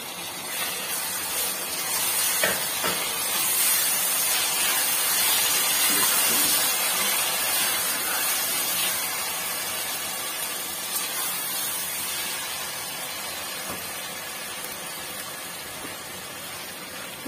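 Tomatoes sizzle and fry in a pan with mince, ginger-garlic paste and green chilli, a steady hissing crackle that holds loud and even throughout, easing slightly toward the end.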